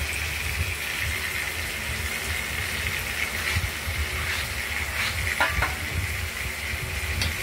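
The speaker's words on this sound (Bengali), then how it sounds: "ভাজা হচ্ছে," Steady frying sizzle of ash gourd slices in hot oil, constant and close, with a few faint clinks partway through.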